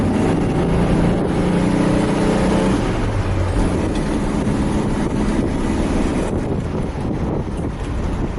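A 1970 Volkswagen Fusca with a variable-venturi carburetor drives toward a test track. Its engine drones steadily under heavy, rushing wind noise.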